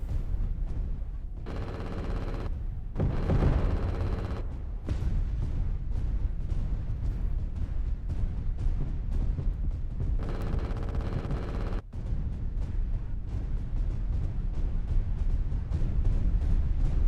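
Heavy mech weapon fire in the Engines of Destruction game, a dense, sustained barrage of booming shots and blasts running almost continuously, with a short break near the start and a brief dip partway through.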